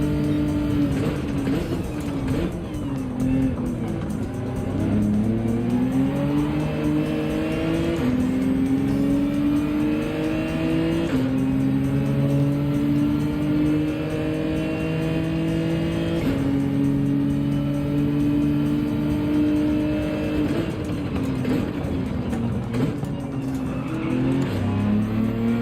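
Race cars in Gran Turismo 7 roar continuously as they race and overtake, engines revving and shifting pitch with overlapping cars and occasional tire squeal, loud and steady throughout.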